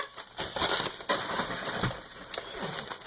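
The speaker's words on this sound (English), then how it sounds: "self-adhesive bubble wrap" Self-adhesive plastic bubble wrap being handled and crumpled, a close, busy crackling and crinkling that swells and fades with brief sharp pops, with no voices.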